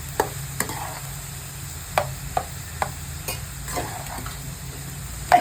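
Fried rice being stir-fried in a pan, with a steady low sizzle under a scatter of sharp clicks and scrapes from a spatula striking the pan at irregular intervals, close and moderately loud, no voices.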